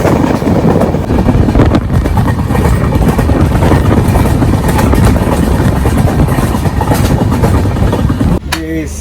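A train on the Konkan Railway runs loud and close, its steady rumble and clattering wheels continuous for several seconds before cutting off abruptly near the end.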